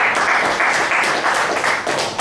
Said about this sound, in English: Shall we give him a big round of applause?